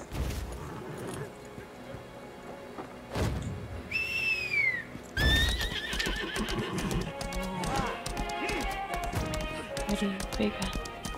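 A horse in the game Lost Ark whinnies loudly, then galloping hoofbeats clatter in a fast rhythm, with a whistle-like tone and speech mixed in.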